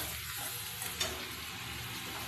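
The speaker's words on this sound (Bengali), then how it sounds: "পেঁয়াজ যেটা বেটে রেখেছিলাম ওটা আমি কড়াইতে দিয়ে দিলাম, দিয়ে লাল লাল করে ভাজা ভাজা করে নেবো" Ground onion paste frying in a wok for a steamed egg curry, a steady broadband sizzle that holds evenly throughout with a small spike near the middle, close and moderately loud, no voices.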